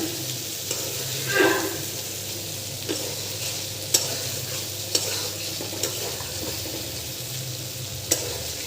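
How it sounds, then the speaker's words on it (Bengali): Tengra fish bhuna frying in a pan, a steady sizzle with occasional scraping stirs and light clinks of the spoon, close and alone with no talking. "আজকে রান্না হচ্ছে ট্যাংরা মাছ ভোনা"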